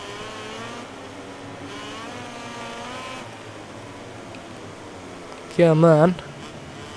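A KTM racing motorcycle engine drones continuously in MotoGP 19 gameplay at Assen, with a steady high whine that dips under braking. Someone talks over it, then a brief loud burst of his voice cuts in near the end.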